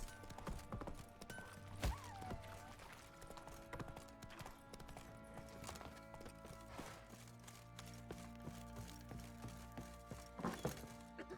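Horses in The Witcher 3 Wild Hunt walk with soft, irregular clip-clopping hooves and occasional wooden thunks, quiet and fairly close against a low game backdrop.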